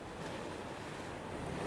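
Ocean surf washes onto a trash-strewn beach in Gresik, where fishing boats are moored; a steady, soft, far-off roar of waves with wind, no voices.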